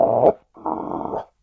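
A fluffy dog wearing a muzzle growls in two low, rumbling bursts close by, the first short and the second longer and steadier, with a brief silence between them.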